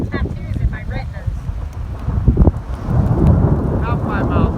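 A powerful monsoon thunderstorm in Las Vegas, Nevada, with rain and wind hissing steadily and rolling thunder swelling in the later part, while people talk intermittently over the storm.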